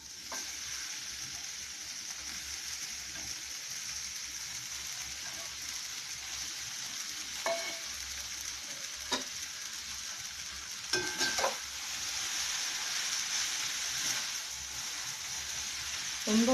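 Vegetable noodles sizzle steadily in a hot pan as they are gently tossed and stirred, with occasional clinks and scrapes of the utensil against the metal standing out over the constant frying hiss.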